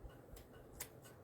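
Scissors snip ribbon bows for fall hanging pumpkin and sunflower decor, a few quiet, close crisp cuts spaced out over soft background noise.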